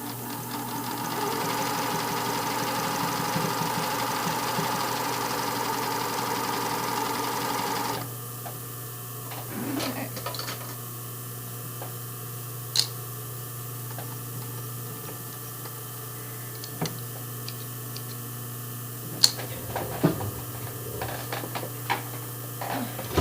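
Sewing machine stitching a brief panty, running in a steady loud continuous burst for about eight seconds, then stopping to leave a quieter hum with scattered small clicks and taps of fabric handling.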